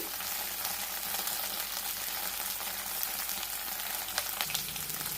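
Okra frying in a pan over a medium flame, giving a steady, crackling sizzle with occasional sharp pops, close and even in level, no talking.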